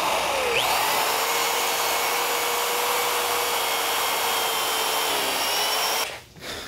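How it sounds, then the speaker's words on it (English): A hand drill bores a 3/8 inch hole in a Brown & Sharpe surface plate stand, a steady, loud whine running close and unbroken for about six seconds before spinning down, with no talking. "we're just gonna take a hand drill and drill them"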